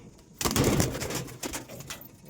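A burst of rapid wing flapping and scuffling nearby as a wild pigeon struggles in a cage, loud at first then easing into softer intermittent rustles.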